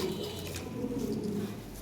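Lahore pigeons of assorted colours, large in size, coo steadily and close up in low rolling murmurs that run continuously throughout.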